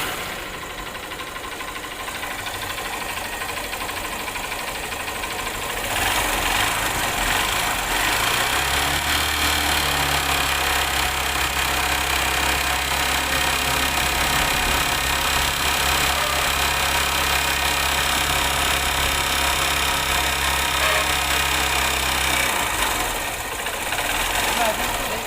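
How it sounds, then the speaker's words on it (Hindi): A motorbike engine runs steadily, idling with a low, continuous hum and a mechanical knocking from a worn piston and a rattling timing chain. The engine has a white smoke and low oil fault, and the sound is close, loud and unbroken. "इसका जो साउंड है, इसमें पिस्टन साउंड है, साथ में टाइमिंग चेन का साउंड है।"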